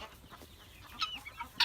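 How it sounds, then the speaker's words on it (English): Free-range chickens on a community farm cluck softly, with a few sharper, louder clucks and squawks coming in short irregular bursts over low outdoor background noise. "these are free-range chickens"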